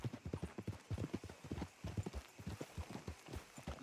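Horse hooves clip-clop in a quick, even rhythm in Red Dead Redemption 2, close and clear, with brief low background murmurs from the game.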